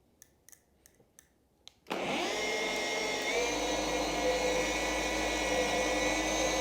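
Car polisher running on speed 6 with a damp wool pad and Gold Standard polish working paint, starting abruptly and holding a loud, steady whirring drone after a few light taps.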